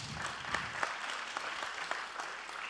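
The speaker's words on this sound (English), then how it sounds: "Applause, please." Audience applause at a vocational excellence award ceremony, a steady moderate patter of many hands clapping with a few sharper claps standing out, continuing throughout.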